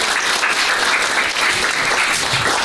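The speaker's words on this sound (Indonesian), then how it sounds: "Tepuk tangan dong untuk kelas" A classroom of students claps together in a school guidance lesson, a loud, close, continuous burst of applause lasting a few seconds with no speech over it.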